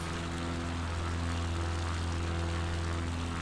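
A propeller airplane climbs steadily in Microsoft Flight Simulator 2020 on a Patagonia bush trip, its engine a constant, loud, droning hum with a low buzzing tone and no voices.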